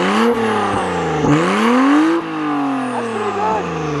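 An Acura NSX fitted with a Liberty Walk body kit revs its engine in short rising and falling blips, loud and close, with the pitch sweeping up and down across several bursts.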